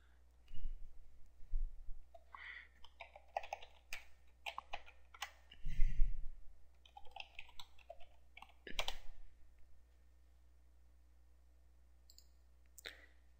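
Mouse clicks on a computer while installing WordPress: a scattering of short, crisp clicks and light taps, close and fairly quiet, with no talking.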